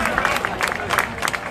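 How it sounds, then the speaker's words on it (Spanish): Audience applause and cheering at an outdoor festival of Puerto Rican jíbaro music in Dorado, greeting a young troubadour from Caguas; steady clapping and crowd noise fill the whole short stretch. "Un aplauso para Gerson Josué Báez Fonseca"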